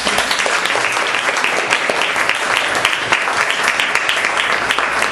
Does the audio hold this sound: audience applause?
yes